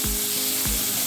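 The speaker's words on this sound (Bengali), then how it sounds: "এগুলো একটু হালকা করে ভেজে নিব" Chopped garlic fries lightly in oil for pasta, giving a dense, steady sizzle close to the pan, with low thumps and a faint hum underneath, and no talking.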